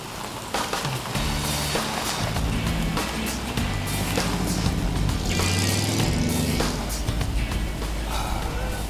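A 1941 Plymouth Special Deluxe cruising on a sunny road in the Okanagan, its engine a steady low rumble with road and wind noise throughout, close and continuous with no talk.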